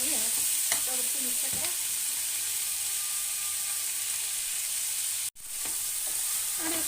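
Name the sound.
tomatoes frying and being stirred in a pan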